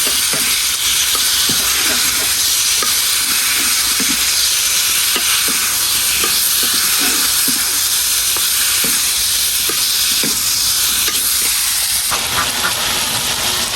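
River chanda fish fritters frying in hot oil, a loud, steady hiss and sizzle throughout with small crackles and a steamy roar close by.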